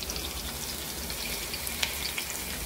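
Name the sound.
frying garlic and green chillies in a pan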